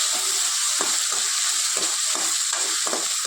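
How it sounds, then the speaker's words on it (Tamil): Tomatoes sautéing in a pan for a Kongu-style mutton curry, a loud steady sizzle with soft repeated scraping of a spoon at a regular pace. "தக்காளி நல்லா வதங்கிட்டுங்க."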